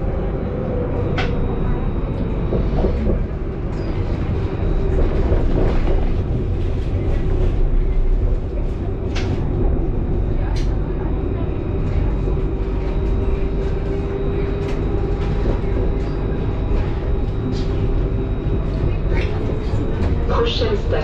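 A Mulhouse line 1 tram runs on rails between Châtaignier and Gare Centrale, heard from inside as a loud, continuous rumble with a steady motor whine and scattered rail clicks and squeaks throughout.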